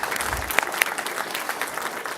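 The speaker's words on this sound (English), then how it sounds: "We'll give you a round of applause." Short burst of audience applause at an Encinitas city council meeting, moderately loud steady clapping with a couple of sharper individual claps standing out.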